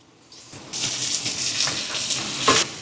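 A finely ground paste of ginger, garlic, green chilli and coriander drops into hot oil in a kadai, bursting into a sudden loud sizzle after a quiet start that holds steadily with a louder flare near the end.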